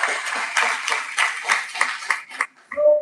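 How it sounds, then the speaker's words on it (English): Brief burst of clapping and applause from an audience honoring students at Gandhinagar University, dense and lively for a couple of seconds before fading, with a short voice or tone at the end. "So a huge round of applause for all these students that are here."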